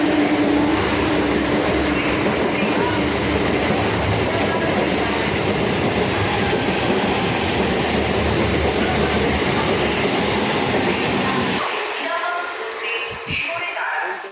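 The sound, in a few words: passenger train at a station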